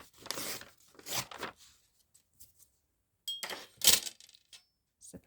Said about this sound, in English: let's just first tear this in half, and we might be able to get both done out of this one piece of paper